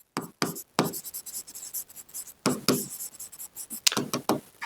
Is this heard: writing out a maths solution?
yes